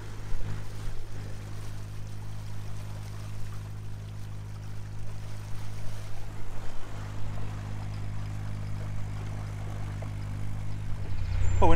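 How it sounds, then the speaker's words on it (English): Narrowboat diesel engine running steadily with its propeller fouled by thick blanket weed, a constant low drone with churning water, struggling and rising slightly near the end. "Prop just keeps getting fouled up with the blanket weed, keep grinding to a halt."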